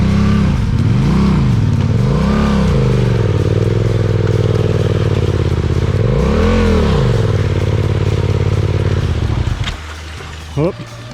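A learner rides an adventure motorcycle on a trail near Mount Kaputar, working the clutch as the engine revs loudly and repeatedly rises and falls close by before dropping to idle near the end. People talk over the engine.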